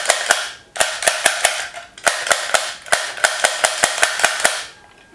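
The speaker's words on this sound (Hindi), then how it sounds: "ये तो पिस्टल है, ओके। अच्छा, ऑटोमेटिक फायर होती है।" Toy pistol from an army role play set firing automatically, a rapid series of sharp, loud clicking bangs in quick bursts with brief pauses between runs.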